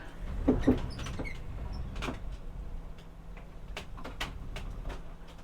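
A camper van slide-out is opened, producing a series of irregular clicks, ticks and mechanical knocks over a low motor hum, with a few louder clacks near the start and toward the end.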